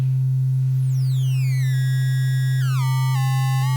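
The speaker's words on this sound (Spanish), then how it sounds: "Y produce un tipo de distorsión, ¿no? Muy característico, que suena de baja calidad, por eso es low-fi o bit crush." A steady electronic tone is run through a bit-crush lo-fi distortion effect, its pitch sliding downward in gritty, stepped sweeps over a constant low hum, close and loud with no voices.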